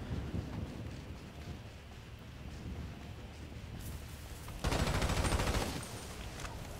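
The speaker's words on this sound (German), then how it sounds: "Dann nehmen wir lieber unser Uzi Maschinengewehr." Uzi submachine gun fire in GTA 5 Online rattles as a dense, steady stream of rapid shots over a noisy rumbling background, with a louder, sharper burst of automatic fire for about a second near the end.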